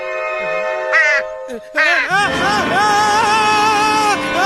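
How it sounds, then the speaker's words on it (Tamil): A cartoon crow's cawing call sounds a few times, loud and close, over a steady tonal musical background. "ஜாக்கிரதை காக்கா வருது"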